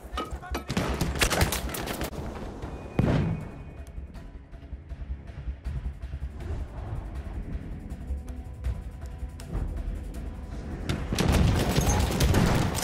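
Machine gun fire in the Battlefield 1 video game, rapid bursts of gunshots with booming impacts and ongoing battle noise, loud at the start and end with a rattling mix of shots throughout.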